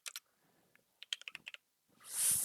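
Quick bursts of key presses on a computer keyboard, close and crisp, in short irregular clusters with brief pauses, ending in a swell of noise.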